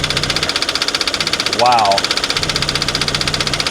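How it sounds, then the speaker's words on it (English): A damaged Ford Model A engine idles roughly with a steady, rhythmic knocking pulse and blow-by, loud and close, while a person briefly exclaims over it. "We got some pretty significant engine damage."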